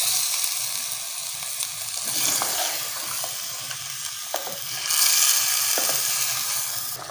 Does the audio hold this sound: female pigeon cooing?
no